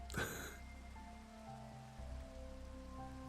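Minecraft rain falls as a soft, constant patter over low steady game hum, opening with a short bright click and continuing evenly with no talking.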